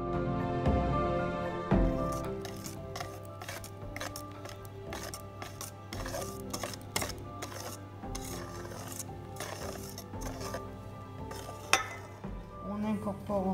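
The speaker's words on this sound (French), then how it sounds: "Ensuite, on fouette jusqu'à ce que le mélange blanchisse." Eggs and sugar being whisked together in a bowl for a lemon cake, with a steady rapid run of wiry scraping and tapping strokes against the bowl that carries on throughout, close up and fairly soft.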